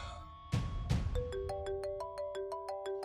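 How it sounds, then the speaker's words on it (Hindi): A phone ringtone plays a repeating electronic melody of short bright tones after two dull knocks, continuing steadily and clearly without speech. "नादिर भाई का फोन आ रहा है।"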